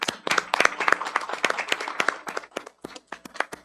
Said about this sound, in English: I want to give a round of applause to our new CUBE Steering Committee member